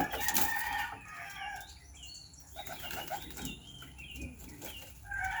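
Racing pigeons bursting into flight, a loud flurry of flapping wings close by, continuing in uneven waves throughout with no talking.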